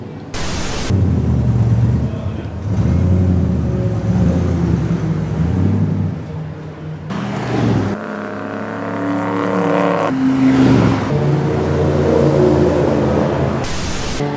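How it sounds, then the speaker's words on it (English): A 1966 Ford Mustang driven hard around the Brands Hatch circuit, its V8-style engine roaring loud and close with rising and falling revs, a continuous engine drone punctuated by brief cuts and gear changes. "I have just done 5 laps in a 1966 Ford Mustang."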